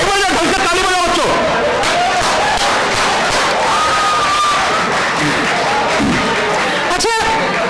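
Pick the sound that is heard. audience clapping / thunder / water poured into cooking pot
audience clapping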